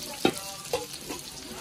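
Onions frying in a pan during home cooking, with faint sizzling under a few soft stirring scrapes and clinks, fairly close and quiet.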